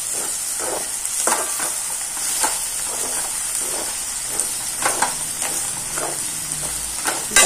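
Green chilies frying in hot coconut oil, a steady bright sizzle with soft stirring scrapes and occasional crackles throughout, fairly close and without talk.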